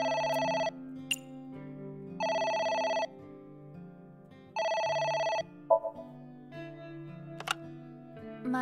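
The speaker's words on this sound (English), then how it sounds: "It's the phone. Maybe try picking it up?" A telephone rings in the game AI: The Somnium Files, three loud electronic ring bursts spaced by short pauses, close and clear over quiet background music, with a few soft clicks after.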